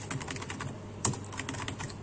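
Text being typed into an HTML file on a computer keyboard, a quick patter of close keystrokes with one sharper key hit in the middle.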